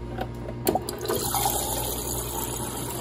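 Water pours steadily from the dispenser of a Whirlpool refrigerator after a filter change, a continuous close splashing flow into a cup with a few small knocks at the start and no talking.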